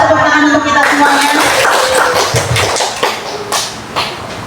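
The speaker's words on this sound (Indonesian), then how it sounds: "Tepuk tangan untuk kita semuanya." An audience claps together at a morning training session, the applause steady and fairly loud for several seconds before thinning into scattered claps.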